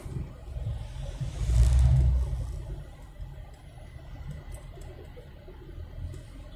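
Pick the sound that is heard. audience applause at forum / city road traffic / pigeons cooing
city road traffic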